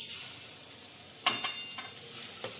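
Grated carrots sautéing in ghee for carrot halwa give a low, steady sizzle, with a few sharp stirring scrapes and clinks standing out near the middle and end.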